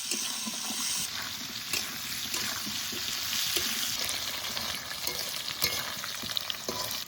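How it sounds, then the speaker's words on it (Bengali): Jackfruit frying with salt and turmeric in a pan, a continuous loud sizzle broken by repeated stirring scrapes and small clinks throughout. "এবার ভালো করে এঁচড় ভেজে নেবো"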